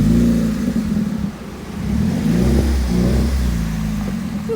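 Mazda Miata with a crackle tune, its exhaust burbling and rumbling low and steady from outside the car, dipping briefly before swelling again through a few seconds with no talk.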